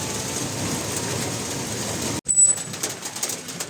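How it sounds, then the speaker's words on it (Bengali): Rain falls steadily, heard from inside an enclosed e-rickshaw, as an even soft hiss that cuts off briefly and returns with sharper spattering. "বৃষ্টি হচ্ছে বৃষ্টি"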